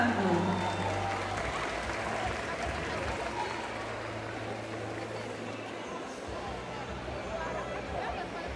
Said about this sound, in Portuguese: Palmas de palmas pro Henrique que já tá chegando.